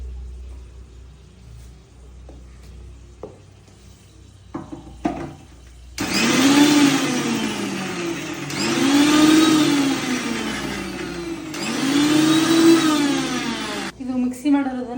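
A kitchen mixer grinder blends ingredients for tomato curry, running loud in three long whirring pulses back to back after a quiet start with a few faint clicks and taps.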